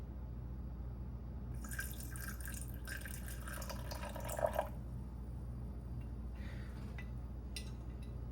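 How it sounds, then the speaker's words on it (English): Filtered water poured into an einkorn sourdough starter, a faint trickle and dribble in short spurts with quiet pauses between. "we're going to add 60 grams of our filtered water"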